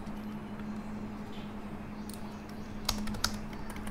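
A few quick keystrokes on a computer keyboard while entering HTML text, close and crisp over a steady background hum, with no one talking.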